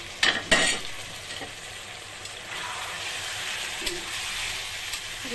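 Fish roe curry with potato and drumstick pieces being stir-fried in a pan, giving a steady soft sizzle with a few sharp scraping clacks near the start and occasional light stirring knocks, close and alone without talk.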